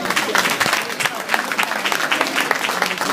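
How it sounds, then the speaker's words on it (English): An audience at a live comedy show in Antwerp, Belgium claps continuously, a loud, dense burst of hands with scattered louder claps throughout and no break. "Wanna clap for yourself again"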